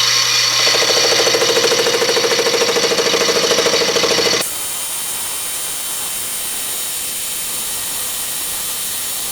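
A metal lathe with a carbide insert cuts into case-hardened steel, a loud buzzing, chattering whine for about four seconds that stops abruptly and leaves only a faint steady hum.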